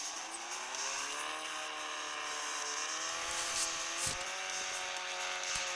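Racing car engine in a driving video game, revving continuously with rising and falling pitch as it accelerates and shifts, loud and close throughout, with a brief tire squeal near the end.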